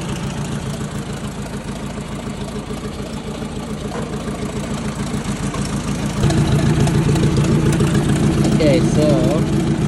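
A 1956 Ford 800 tractor engine runs with a steady, close, chugging idle that grows louder partway through, and a person speaks briefly over it.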